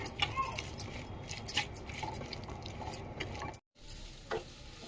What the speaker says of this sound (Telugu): మంచిగా కలిపేసుకుందాము సాల్ట్ వేసుకొని